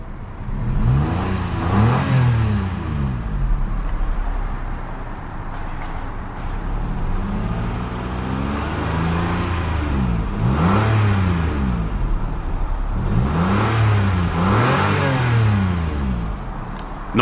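A 2014 Toyota iQ with its 1.0 VVT-i engine revs up and settles back several times over a steady idle, each rising and falling whine loud and close with no talk.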